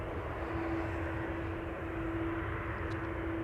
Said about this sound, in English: Delta A330 on the move, but on the move to runway 24 or a parking spot.